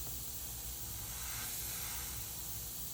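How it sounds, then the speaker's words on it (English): Airbrush hissing a continuous spray of paint over a paper template for a custom-painted skull, steady and close with no breaks, no voices. "I'm just going to hit the paper template on here and let the overspray go to the right."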